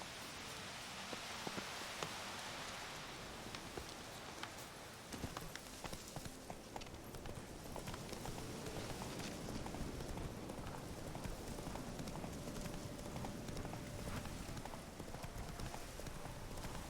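Hooves clip-clop in a steady walking rhythm in the video game Witcher 3: Hearts of Stone, over soft background noise like light rain, fairly quiet and continuous.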